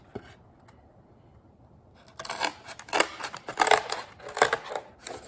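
Scissors cut out a cardboard letter L, a rapid series of close, crisp snips and scraping cuts that begins after a couple of seconds of near silence.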